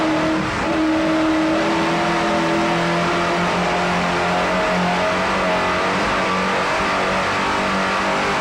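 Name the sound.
750 horsepower racing boat engines speeding on lake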